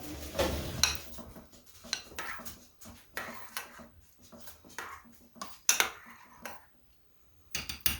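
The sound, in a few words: stirring Kamut grain in water in a container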